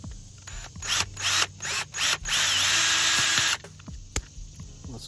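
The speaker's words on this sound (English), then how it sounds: "So I'll drill the irrigation hoses back into place." Power drill driving screws to fasten irrigation hoses back in place in a fall garden, several short whirring bursts and one longer sustained run, close by with no talking.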